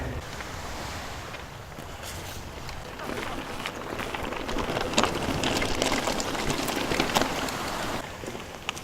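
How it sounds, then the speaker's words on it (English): Steady rain patters and hisses outdoors on a trail near water in Hawaii's North Shore, with scattered sharper drips and splashes, a constant wash of noise throughout. "the rain is just now starting to pick up a little bit"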